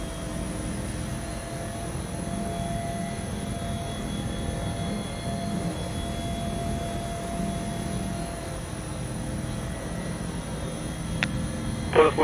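A Bell 412 helicopter in the X-Plane 11 simulator with a search-and-rescue sound mod gives a steady, close, droning rotor and turbine rumble with faint whining tones, unbroken throughout, with no speech.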